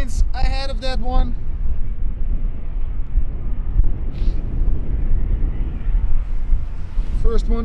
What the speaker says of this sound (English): Iberia Express A320 coming in from Madrid.